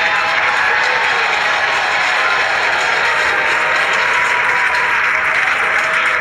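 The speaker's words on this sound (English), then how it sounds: "Crowds cheering here at SpaceX Mission Control Hawthorne as we tune in to see if we stick the landing" A large crowd cheers and applauds continuously at SpaceX Mission Control in Hawthorne as a Falcon 9 booster lands, a dense, steady roar of clapping and voices from start to finish.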